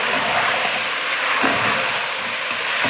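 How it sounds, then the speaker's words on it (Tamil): Country chicken gravy masala with salt and turmeric sizzles in a pan as it is sautéed, giving a loud, steady, close hiss with no pauses. "ஒரு 5 நிமிஷத்துக்கு இது போல் நல்லா வதக்கி விட்டுக்கலாம்"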